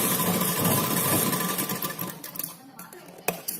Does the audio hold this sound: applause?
no